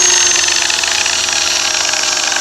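A Flex rotary polisher running steadily with a foam pad on a Velcro-backed backing plate and a wobbly head, giving a loud, continuous whir close up with no break.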